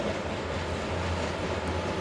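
Freight trash train with end-of-train DPU helper locomotives rolling past at Gallitzin, Pennsylvania, a steady low rumble and rolling rail noise, fairly distant and even, with no voices.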